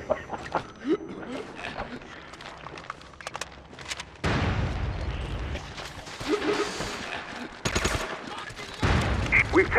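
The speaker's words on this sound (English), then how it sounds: "Hold still so I can shoot you." Bursts of gunfire ring out in a first-person shooter match during a fight to retake point B, sharp scattered shots giving way to longer dense volleys, with voices talking in between.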